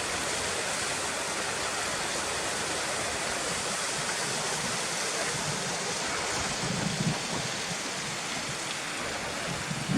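A stream in a rural valley flowing over rocks, a steady, full rushing and babbling wash of water that stays constant throughout, close by and without any voices.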